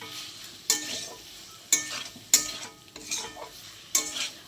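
Spice paste mixed with water is stirred in a pan, a spoon scraping in five or six distinct strokes over a soft sizzle, close and quiet with no talking.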